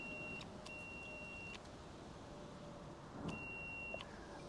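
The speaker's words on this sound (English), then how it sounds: "But the horn on this is ridiculous." Mobility scooter horn giving thin, steady electronic beeps: two tones in quick succession, a gap, then another beep, faint over low road and motor rumble.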